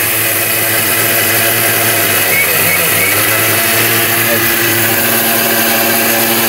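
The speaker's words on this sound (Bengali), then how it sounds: "আমরা শুকনাটা দিয়ে গুঁড়ো করে দেবো আজকে।" A kitchen blender grinds dry rice into flour with a loud, steady motor whine and a gritty rattle that continues unbroken, while someone talks over it.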